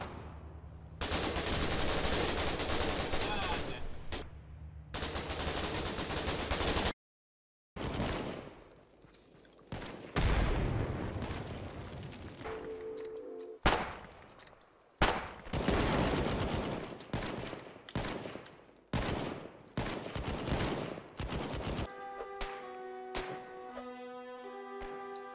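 Bursts of automatic gunfire and single shots from a video game shooter, loud and rapid, in several separate volleys with brief gaps, ending among game tones.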